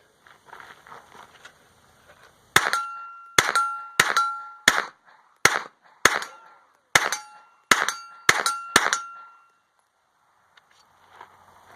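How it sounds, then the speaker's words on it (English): Rapid bursts of gunfire from a SIG MPX fitted with an Elf Tactical trigger and anti-walk pins, about ten sharp, loud shots in uneven quick succession, each with a ringing metallic tail, followed by quiet. "here's Luke shooting the new Elf trigger with the anti-walk pins"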